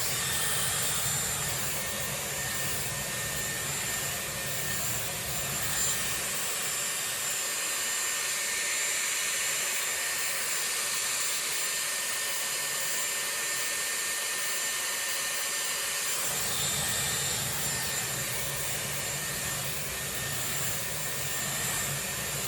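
A Dyson Airwrap blow-drying hair with its round brush attachment, a loud continuous whooshing drone with a steady whine that drops lower partway through before rising back, close up and with no talk.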